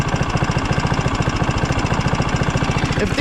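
Turbocharged engine running at a steady idle, close by, with a fast, even pulsing throb and no voices.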